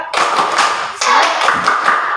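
A primary school class performs a rhythmic group spirit clap in unison, sharp close hand claps in a quick patterned sequence that rings through the classroom.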